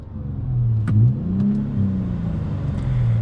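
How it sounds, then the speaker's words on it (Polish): The engine of a 2003 Mercedes C240 (W203) idles steadily and close by, a low continuous rumble with a brief slight rev about a second in, with no voices. "Maszyna już nam chodzi."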